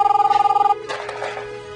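A cell phone rings among a theatre audience with a rapid, pulsing electronic trill that cuts off abruptly, followed by murmuring crowd noise.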